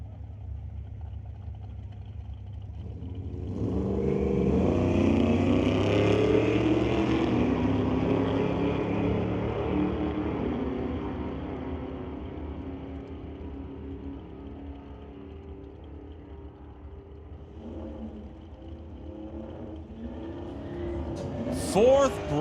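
At a sportsman drag race meet, a 1975 Dodge Dart and another car launch down the strip, their engines roaring up loudly, then fading steadily into the distance.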